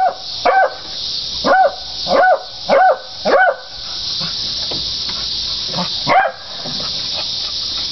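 A dog lets out a run of short, high-pitched yappy barks, four in quick succession then a pause and one more, close and clear over a steady hiss.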